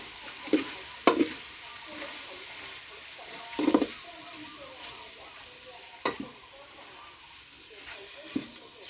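Pork stir-frying in a pan for a pumpkin and pork curry, a steady low sizzle broken by several sharp scraping clacks of the spatula against the pan at irregular intervals, close by, with no talking.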